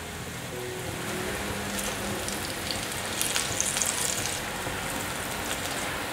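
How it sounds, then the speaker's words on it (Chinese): Food frying in hot oil, turned now and then until both sides go golden brown, giving a steady close crackling sizzle throughout, slightly busier in the middle. "两面都炸定型了，就不定时的翻动。"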